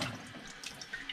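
Water runs steadily from a tap into a sink as a soft, continuous hiss, faint and brief with no other sounds.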